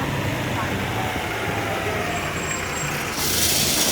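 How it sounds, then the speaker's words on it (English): A bus idles at a stop in the Cotswolds, its engine a steady low rumble close by, with a brief air hiss near the end and voices chatting underneath. "So I'm going to catch this bus."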